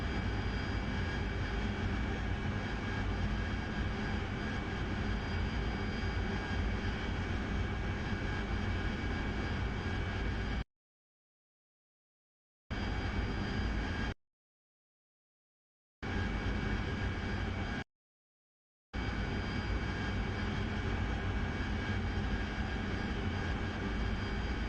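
Aircraft engine in a combat flight simulator game throttling back for a descent, a steady loud drone interrupted by several abrupt cutouts to total silence before it resumes.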